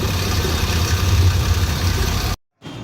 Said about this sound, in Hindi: गाड़ी का जो इंजन है ना वो ओवर हीट हो रहा है, जिसकी वजह से मिसिंग कर रहा है।